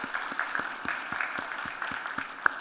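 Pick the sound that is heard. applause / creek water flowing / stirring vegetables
applause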